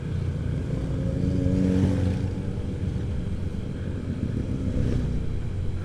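Honda Vario 125 scooter climbing a steep uphill road on an alternative route, engine droning steadily at moderate revs, close and fairly loud, with wind noise and no talk.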